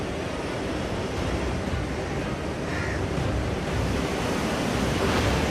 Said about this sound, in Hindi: पानी की ये रफ्तार और ये शोर दिल्ली के लिए खतरे का संकेत है